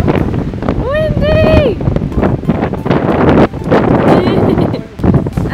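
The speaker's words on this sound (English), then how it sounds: "It's so windy." Strong wind on an Alaskan cruise buffets the microphone with a loud, rough rumble throughout, and a voice briefly cries out near the start.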